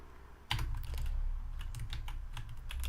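Keys clatter on a computer keyboard while code is typed, an irregular run of close, crisp clicks that starts suddenly and continues without voices.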